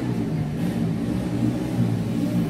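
A motorized tricycle rumbles by nearby, a steady low engine drone with slight swells, heard alone without talk.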